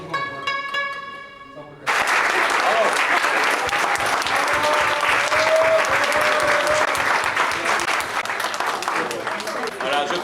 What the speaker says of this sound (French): je crois que vos applaudissements parlent d'eux-mêmes